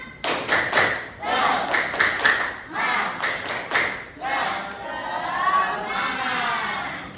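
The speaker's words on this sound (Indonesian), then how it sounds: "Tepuk semangat." Students in an Indonesian classroom perform a patterned cheer clap, with sharp bursts of group clapping and desk thumps alternating with shouted chanting voices, loud and close, in several quick rounds.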